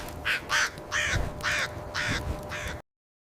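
A crow caws five times in a steady, evenly spaced series, clear and fairly close, with no talking.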